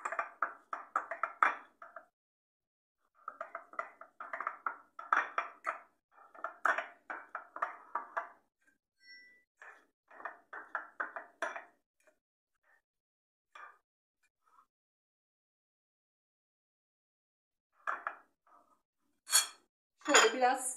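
Mashing an egg filling in a bowl, several bursts of close, rapid clinking and scraping of utensil against dish, separated by silent gaps, ending in a few sharper clinks.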